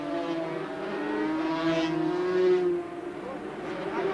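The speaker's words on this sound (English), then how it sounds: "350 Yamahas fire into line, and the sidecar entry is away." 350 Yamaha racing sidecars at a 1988 British Sidecars race at Mallory Park fire up at the start, a loud wall of revving two-stroke engines rising and surging together, with a commentator talking over the roar.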